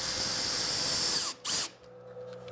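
A high-pitched CNC router spindle with an upcut bit, drilling, whines steadily, cuts out briefly, spins up for a short burst, then winds down and stops.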